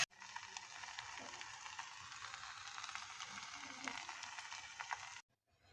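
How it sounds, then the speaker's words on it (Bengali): Noodles with spice frying in a pan while being stirred and mixed, a continuous close sizzle with scraping and clattering from the stirring, which stops abruptly near the end. "এখন সুন্দর করে নাড়িয়ে চাড়িয়ে মিক্সচার করতে হবে"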